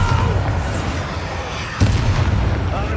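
Bombarda explosion spell cast in Hogwarts Legacy, a deep booming blast with rumbling low end, followed by a sharper burst partway through, loud and close amid game effects.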